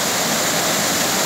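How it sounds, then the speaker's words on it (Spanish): Waterfall beside an artificial pool, a loud, constant rushing roar of falling water close by with no break. "Aquí vamos grabando a la cascada."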